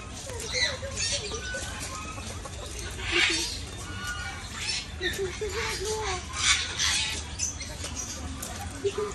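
Chickens cluck and squawk among background chatter and rustling on a family trip in Batam and Bintan, with people talking nearby over a steady outdoor hum.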